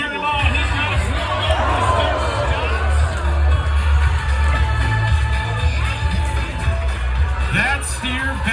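A rodeo crowd in Colville, Washington cheers and whoops for a steer wrestler, a dense, steady roar of voices and babble filling the arena throughout.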